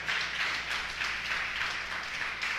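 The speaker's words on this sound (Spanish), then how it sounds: "Denle un aplauso a Dios." Church congregation applauding during a sermon, a sustained wash of many hands clapping together, steady and fairly loud throughout with no talking over it.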